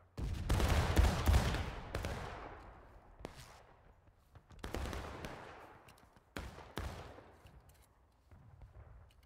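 Musket volleys in the Civil War battle game War of Rights, several loud cracking bursts of massed rifle fire, each ringing out and decaying with echo, separated by brief gaps.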